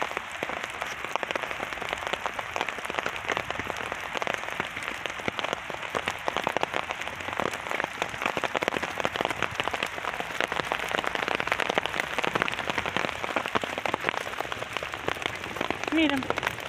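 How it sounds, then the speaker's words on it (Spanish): Hail pelting down on a rose garden in Padova, a dense, steady patter of small hailstones across the whole stretch with no gaps, loud and close; a voice speaks briefly over it. "Miren el granizo."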